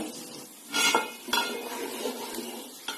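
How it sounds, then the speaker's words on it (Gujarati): A spoon scrapes and stirs flour for adadiya pak against a pan in steady strokes, with soft sizzling underneath and a few louder scraping bursts. "સતત આપણે હલાવતા રહીશું, તળિયે લોટ ચોટવું ના જોઈએ"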